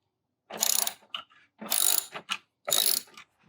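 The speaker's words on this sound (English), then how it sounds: "we do that by loosening these three bolts" Ratchet wrench loosening 10mm bolts on the bottom of the starter box of a 2000-2004 Toyota Avalon, heard as three distinct bursts of rapid clicking, close and fairly loud, separated by brief quiet gaps with small handling clicks.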